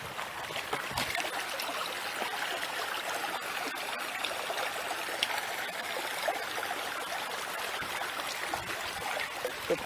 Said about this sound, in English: here's a creek that runs through the park